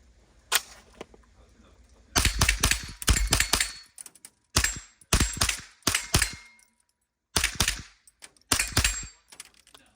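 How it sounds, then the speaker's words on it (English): Rapid strings of AR-15 rifle shots ring off steel targets, each crack followed by a metallic clang, fired in several quick bursts separated by short pauses, loud and close. "Just shooting some steel, you know."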